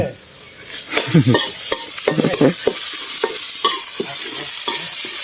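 Beef stir-frying with holy basil in a pan, with steady loud sizzling and repeated scraping stirs of a utensil, busy and close throughout.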